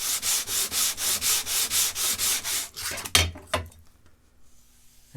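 Sandpaper abrading proud veneer along the edge of a plywood facet, about a dozen quick, even rasping strokes in steady rhythm, close and loud, then a few slower strokes tapering off into near quiet.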